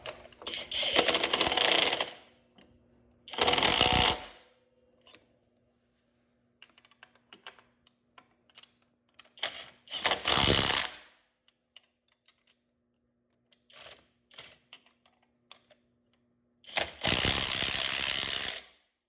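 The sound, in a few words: ratchet tightening oil cooler mounting on CG250 motorcycle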